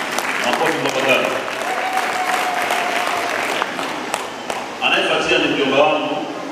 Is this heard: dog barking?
no